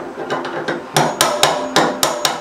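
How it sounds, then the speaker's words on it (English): Sharp metal hammer blows drive a fuel tank sending unit locking ring into place during an LS engine swap fuel system job, about eight distinct close strikes, lighter at first and then harder, with no talking. "you twist this into place and then hammer it"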